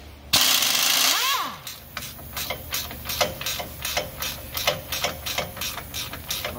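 Impact wrench on the drag link nut of a Jeep. A short, harsh burst of hammering comes up close, then a string of rhythmic clicking, ratchet-like pulses follows, with no speech.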